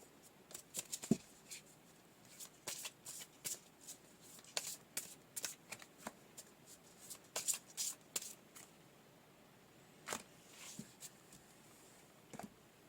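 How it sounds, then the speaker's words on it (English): Oracle cards are shuffled by hand in quick, crisp riffling bursts, near and soft, in an irregular run with brief pauses between. "let's get some oracle cards pulled"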